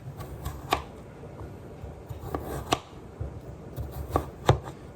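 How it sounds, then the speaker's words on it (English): Russet potatoes diced with a knife on a board, a series of crisp close chops in uneven bursts of two or three, with soft handling noise between. "cut it in half and then just start dicing"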